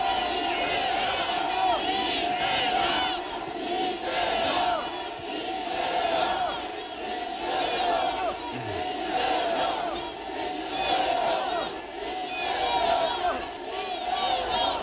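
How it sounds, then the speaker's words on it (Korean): Large crowd at a Korean political protest rally cheering, shouting and clapping continuously for the whole stretch, a loud dense roar with whoops and cries rising above it. "여러분 뜨거운 박수와 함성 부탁드립니다"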